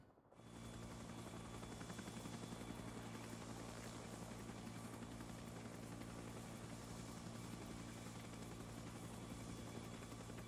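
Chinook helicopter close by in a flight simulation game, a steady loud droning rotor and engine roar that holds unbroken throughout.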